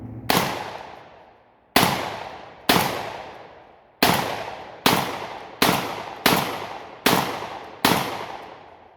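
A GFY 1 bullpup shotgun fires low brass Suprema birdshot outdoors, nine loud, sharp blasts with ringing decay, the first few spaced out and the rest in a quicker, steady rhythm.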